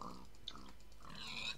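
Pigs in a Minecraft-style game, a short run of faint nasal grunts with a brief squeal at the end, heard alone and quiet.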